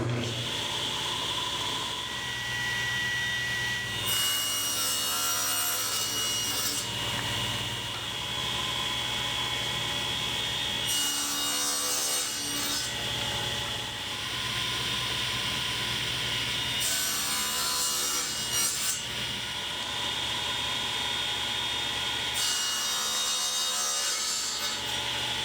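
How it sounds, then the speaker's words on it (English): Table saw crosscutting small wood pieces on a mini crosscut sled, the motor humming steadily while four distinct rasping cuts come at regular intervals, close and clear. "Making these crosscuts on the table saw is easy and accurate with my mini crosscut sled."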